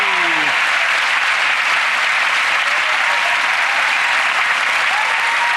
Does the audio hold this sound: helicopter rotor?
no